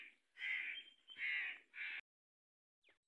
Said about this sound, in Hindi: परिंदे और चिड़ी वगैरह कौवे वगैरह कैसी आवाज़ें निकाले सुबह सुबह